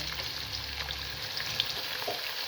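Onions frying in hot oil with crackled cumin seeds in a kadai, a steady soft sizzle that holds evenly throughout with a few faint clicks of stirring.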